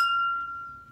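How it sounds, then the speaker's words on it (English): A single drinking glass used as a glass xylophone is struck once, giving a bright, clear ring with a pure sustained tone that decays slowly over about a second, close and alone. "It makes the sound like this glass."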